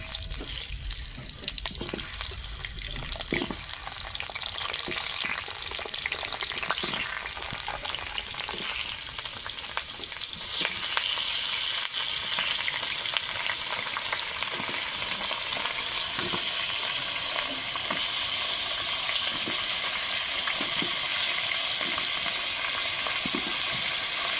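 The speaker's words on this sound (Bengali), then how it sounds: "ভালো করে লাল লাল করে আলু ভেজে নেব" Cut potatoes sizzle steadily in hot oil in a home kitchen pan, a loud continuous crackling hiss with occasional soft stirring knocks.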